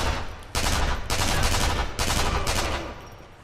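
Sustained automatic gunfire from a firearm in the shooter game Sniper Elite V2, loud and dense in several long bursts separated by brief pauses, with no voices.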